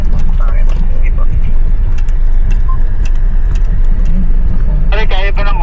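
A car drives along a rough road on the way to a campsite at Sitio Tangal. A steady, loud engine and road rumble runs throughout. Brief clattering jolts break in now and then, and voices come up near the end.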